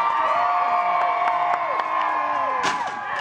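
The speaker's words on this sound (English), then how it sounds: "Let them hear you cheer!" Crowd at a medieval fair joust cheering and whooping, with shouting children and high cries rising over a steady roar, swelling near the end.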